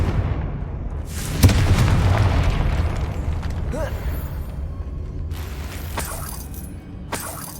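A Confringo spell explodes in the Hogwarts Legacy video game with a loud booming burst and a rumbling, crackling tail, followed by more magical whooshes and impacts.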